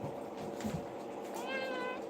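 A house cat meows faintly in a short drawn-out call over low room background noise.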